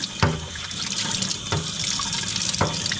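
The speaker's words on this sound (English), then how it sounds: "So just rinse it off with water." A dehumidifier filter is rinsed under a running tap, a steady splashing stream interrupted by a few sharp knocks as it is handled in the sink, close and fairly loud with no talking.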